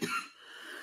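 A single short cough, one quick burst followed by a breathy tail, close and alone.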